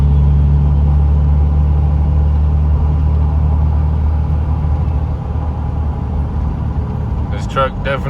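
Diesel truck with a triple-billet 48RE automatic transmission pulling steadily under light throttle, a loud, continuous low drone and rumble filling the cabin, with a brief voice near the end.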